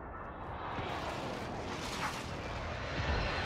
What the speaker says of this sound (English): Be advised, friendly position airstrike.